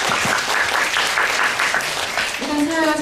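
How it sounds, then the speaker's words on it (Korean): Applause from a lecture audience: dense, even clapping fills the space steadily, with a voice briefly audible near the end. "여러분 모두 큰 박수 부탁드립니다."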